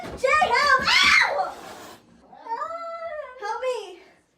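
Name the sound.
cat yowling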